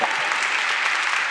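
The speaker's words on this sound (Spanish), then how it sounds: "un fuerte aplauso para ellas" Steady audience applause at a Spanish-language talk, honoring two young women, many hands clapping evenly at moderate loudness throughout the short stretch with no voices on top.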